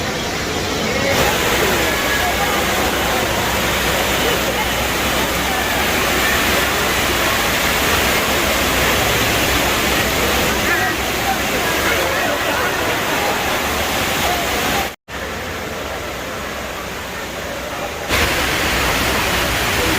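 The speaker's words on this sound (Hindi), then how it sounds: "water fountain," A large indoor water fountain at Dubai Mall rushes steadily and loudly in a broad, unbroken roar. There is a brief cut and a slight dip near the end.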